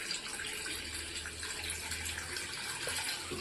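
Water pours steadily into a cooking pot in a home kitchen as a ghugni is being prepared, a continuous close splashing gush that holds at an even level, with no talking.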